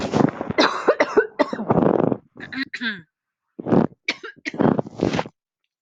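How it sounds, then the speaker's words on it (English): Several harsh coughs burst out close to the mic in a quick cluster, followed by a short pause and a few more throaty coughs. "oh, I'm going to cough, excuse me."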